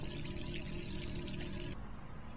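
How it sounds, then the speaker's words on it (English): Water runs from a tap in Resident Evil 3, a steady close rushing hiss that carries on unbroken, then drops to a slightly softer flow near the end. "You can't leave the water running."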